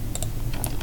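Fingers tap out a short burst of a few quick key presses on a computer keyboard, close and fairly quiet, with no voices.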